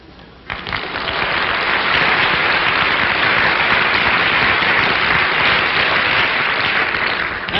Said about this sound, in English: Like the way the people applauded?